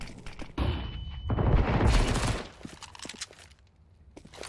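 Flashbang grenade in Counter-Strike 2, a thrown grenade bursting into a loud roaring blast lasting about a second, followed by scattered clicks and footsteps in the quieter stretch after.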